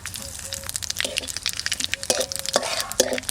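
Bay leaf and dry red chilli crackle and stir in hot oil left from frying chital fish, with scraping, clinks and bursts of sizzle in a busy home kitchen.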